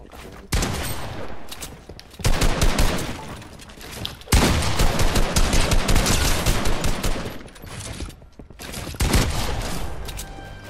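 Bursts of rapid automatic gunfire in Fortnite, loud and close, coming in several long volleys separated by short lulls, with sharp crackling reports and a faint voice underneath.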